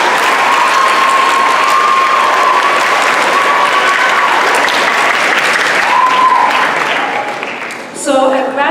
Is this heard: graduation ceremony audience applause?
yes